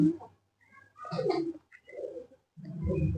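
Soft, low pigeon coos rise and fall in a few phrases nearby, with short pauses between them.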